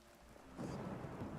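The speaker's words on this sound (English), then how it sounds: "I love the storm sounds." A thunderstorm in Oblivion Remastered swells from a quiet low rumble into a broad wash of rain and rolling thunder that holds steady to the end.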